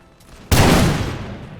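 Grenadiers fire a sudden loud musket volley in the Prussian campaign of the Imperial Splendour game: one sharp crackling blast that rolls and fades over about a second.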